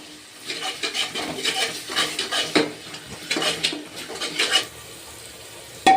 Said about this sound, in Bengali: রসুন বাটাটা একটু নেড়ে চেড়ে হয়ে যায়